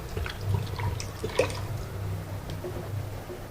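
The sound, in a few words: water being added to grated coconut meat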